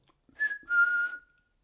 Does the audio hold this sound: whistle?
yes